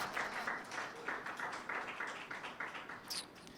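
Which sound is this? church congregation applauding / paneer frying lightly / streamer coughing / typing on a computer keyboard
church congregation applauding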